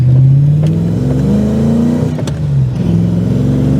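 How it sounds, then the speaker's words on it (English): A V8-swapped R34 Nissan Skyline revs and pulls hard, a deep throaty rumble rising and falling in pitch through gear changes, loud and close. "Driving the Nissan Skyline with a V8 engine"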